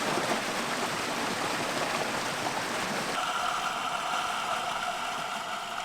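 A limestone-gorge waterfall below the Geomryongso spring in Taebaek pours with a steady, broadband rush of falling water. Halfway through, a faint tonal hum joins the continuous roar.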